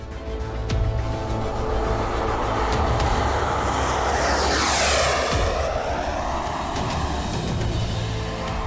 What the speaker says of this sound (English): the turbines run flawlessly after a restart